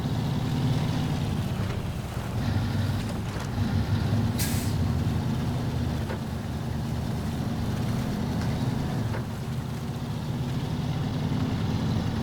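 A pink Navistar truck rolls along in SnowRunner, its heavy engine making a steady low drone that stays loud and unbroken throughout, with a brief hissing burst partway through.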